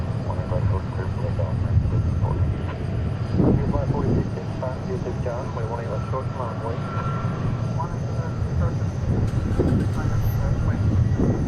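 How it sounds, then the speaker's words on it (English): An Airbus A300 jet taxis at DFW International Airport, its engines a steady, broad rumble from a distance. People talk over it throughout. "We got another A300 taxiing out of UPS Miniport."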